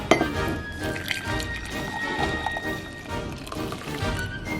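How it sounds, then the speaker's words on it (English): Hot water pours into MRE coffee powder, a close, steady liquid trickle with small splashes and faint clinks against the container, lasting a few seconds. "And now I'm just going to go ahead and add some hot water to this."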